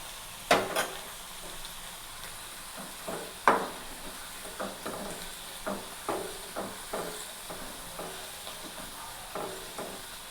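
Thin potato slices for homemade chips frying in hot oil, with an even sizzle and hiss throughout and a string of light, regular clicks as the slices are dropped in and stirred.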